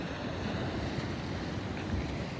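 Big ocean waves roll in at Avon-by-the-Sea beach as a steady, loud roaring wash of surf mixed with gusty wind buffeting the microphone, with no voices.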